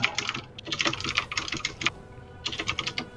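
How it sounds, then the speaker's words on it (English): Rapid typing on a computer keyboard sounds close and clear, in quick bursts of key clicks with a brief pause in the middle, and no talking. "You can hear me typing because I can't remember the actor's name."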